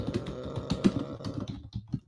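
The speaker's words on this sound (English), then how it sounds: "Just typing in our group right here" Rapid clattering keystrokes on a computer keyboard, close and fairly loud, in quick irregular bursts with a brief pause near the end; no voices.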